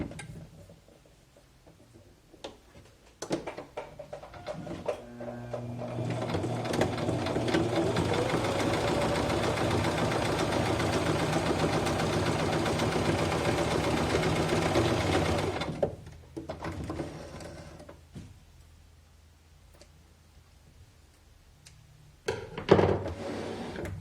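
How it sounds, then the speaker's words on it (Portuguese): A sewing machine with a standard presser foot runs a straight seam through fabric for a coin purse, a steady mechanical whir of about ten seconds. Quieter handling clicks and taps come before and after it. "Vou fazer uma costurinha. Pezinho de máquina, normal, costurinha reta."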